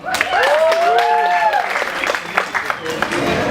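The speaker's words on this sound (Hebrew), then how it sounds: "תנו מלא כפיים לקרים" An audience applauds a judge at a West Coast Swing Jack & Jill dance competition, with steady clapping throughout while a voice speaks over it.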